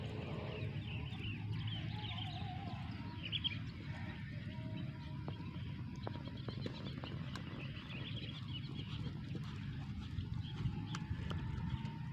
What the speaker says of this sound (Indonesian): di belakang juga sedang ada kuda berlatih.